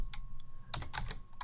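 Keys clatter on a computer keyboard as a terminal command is entered on a Raspberry Pi 2, a few scattered taps then a denser burst of close, crisp keystrokes with no voices.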